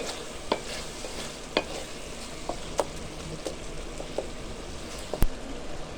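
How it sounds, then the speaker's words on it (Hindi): Shinwari mutton keema being stirred in a karahi: a steady sizzle with scattered spoon scrapes and taps against the pan, close up, no voices. "तो अच्छी तरह मिक्स करेंगे।"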